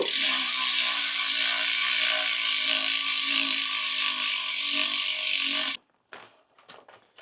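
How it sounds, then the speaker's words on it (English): A Serenade bicycle wheel freehub ratchets in a fast, loud buzz of clicks that runs for several seconds, then slows to a few scattered, separate clicks as the wheel stops. "can't let you guys wait for a little free hub sound test"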